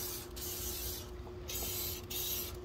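Krown undercoat sprays from an aerosol onto car door hinges: three short, close hissing bursts separated by brief pauses, steady and fairly quiet.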